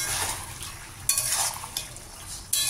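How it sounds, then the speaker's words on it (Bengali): Rohu fish pieces drop into a simmering ridge gourd and potato curry in a pan, giving soft sizzling and bubbling with a few sharp clinks of a utensil against the pan. "এখন দিয়ে দিচ্ছি মাছগুলি।"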